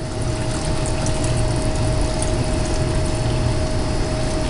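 Pumped water flows steadily through a blue bowl gold concentrator, a loud continuous rushing wash with a low pump drone and a faint steady whine running underneath.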